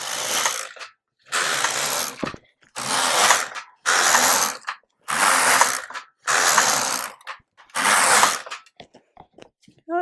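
A knitting machine working yarn makes seven evenly spaced, loud ratcheting sweeps, each a rasping mechanical clatter of about a second, separated by short silences.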